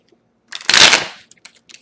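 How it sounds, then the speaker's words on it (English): A deck of tarot cards is shuffled up close, a quick riffle swelling into a dense papery burst and then trailing off into a few soft flicks and taps. "while I'm shuffling"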